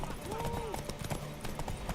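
A horse in The Witcher 3 clops along with quick irregular hoofbeats beneath a voice talking, a short neigh-like tone rising briefly near the start.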